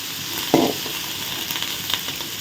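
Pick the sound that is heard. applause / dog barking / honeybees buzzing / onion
onion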